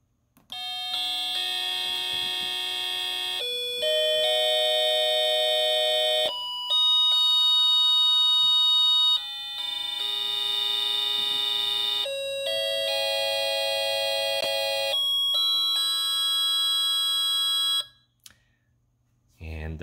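An SN76489 sound generator chip plays its tone channels together, producing bright, steady electronic square-wave chords that change pitch in blocks over about eighteen seconds, loud and close, then stop.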